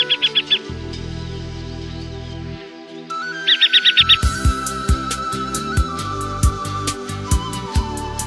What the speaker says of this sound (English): The hen harrier.